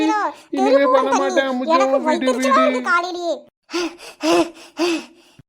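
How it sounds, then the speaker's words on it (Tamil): Heavy, rapid panting breaths from a person in a village home, first mixed with strained vocal sounds, then several loud, separate gasping breaths near the end. "எப்படி மூச்சு வாங்குது பாரு"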